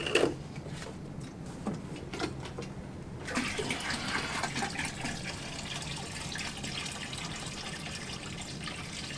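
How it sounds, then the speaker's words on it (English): Water is poured into an aquarium tank to top it up for restarting the filter, a steady broadband splashing and rushing that starts abruptly a few seconds in and continues loud and unbroken to the end. "I'm just going to fill the tank up with a bit of water that I've brought"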